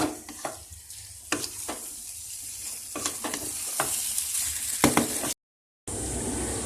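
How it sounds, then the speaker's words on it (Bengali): Chicken is sautéed on high flame in a pan, a steady sizzle broken by sharp spatula scrapes and stirring knocks every second or so, close and moderately loud, with a brief drop to silence near the end. "কষানোর সময় তোমরা ফ্লেমটা একটু বাড়িয়ে দেবে মাংসটা দেওয়ার পরে।"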